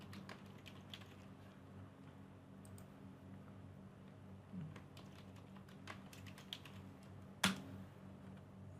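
Quiet keystrokes on a computer keyboard, irregular soft clicks in short bursts over a low steady hum, with one sharper tap near the end.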